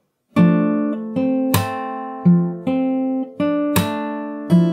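Fingerstyle acoustic guitar plays a section of a song slowly, in six plucked chords at a steady unhurried pace, each ringing out and decaying before the next, close and clear with no talking.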